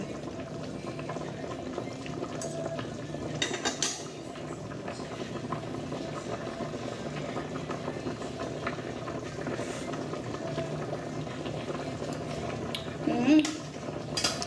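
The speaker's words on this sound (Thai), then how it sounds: "ไหนใครรอล้างจานมาล้างจานเลย" Dishes being washed in a home kitchen, with plates and cutlery clinking and knocking against each other over running water in a continuous busy clatter, and a few faint voices underneath.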